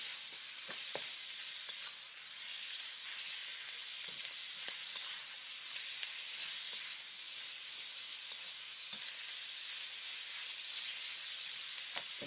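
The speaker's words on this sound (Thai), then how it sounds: "แล้วก็ผัดไปด้วย" Spicy pork with bamboo shoots sizzles and hisses steadily in a hot pan as it is stir-fried, with occasional clinks and scrapes of a spatula.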